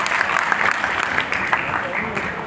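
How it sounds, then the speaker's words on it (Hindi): Crowd applause at a poetry gathering in Khandwa, a sustained wash of clapping with some voices mixed in underneath. "जोरदार तालियां बजाइए।"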